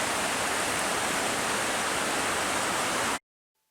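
Munson Creek Falls near Tillamook, Oregon, pours with a steady, dense broadband rush of falling water, continuous and unbroken for about three seconds before cutting to silence.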